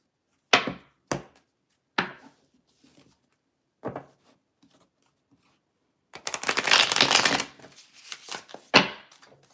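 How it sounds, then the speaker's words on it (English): Tarot cards shuffled by hand: scattered sharp taps and short riffles early on, then a long, dense burst of riffling near the end followed by a few final slaps of the deck. "Two more shuffles."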